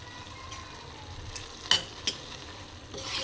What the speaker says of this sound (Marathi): ह्यात थोडंसं दाण्याचं कूट घालून मी परत एकदा हलवून घेणार आहे